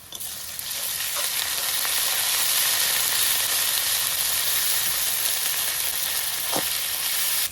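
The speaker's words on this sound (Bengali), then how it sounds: "এবার দিয়ে দেবো রসুন আর আদা বাটা" Onions fry steadily in oil as garlic and ginger paste is added, giving a loud, dense, unbroken sizzle that runs the whole time, with one brief soft knock near the end.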